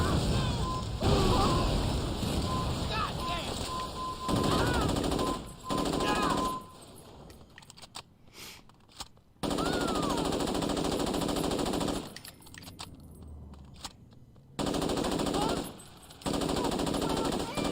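Assault rifle fire in a video game: repeated loud bursts of rapid automatic shots crackling at close range, broken by short pauses and quieter stretches.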